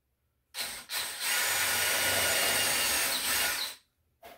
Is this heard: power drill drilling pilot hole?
yes